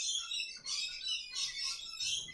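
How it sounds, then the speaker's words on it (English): Birds chirping loudly outdoors in bursts of bright, high-pitched tweets through the clip, with no speech over them. "Boy, those birds are loud."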